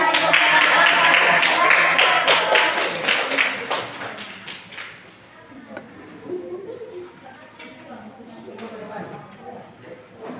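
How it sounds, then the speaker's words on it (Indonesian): A group at a school presentation applauds, a dense burst of clapping for the first few seconds that fades out, followed by people talking. "Berikan tepuk tangan"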